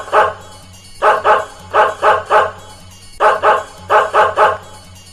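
A dog barks loudly and close by in quick clusters of two or three sharp woofs, with short pauses between each burst.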